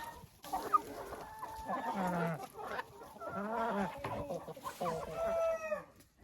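Hens cluck and murmur in a chicken coop, a steady run of soft clucks and drawn-out calls close by, with a brief rising squawk near the end.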